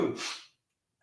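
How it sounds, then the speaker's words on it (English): One short, sharp sneeze bursts out close to the microphone, followed by a moment of silence and a faint breath or sound at the very end. "I gotta sneeze."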